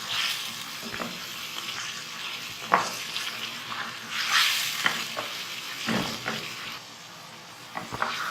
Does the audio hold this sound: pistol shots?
no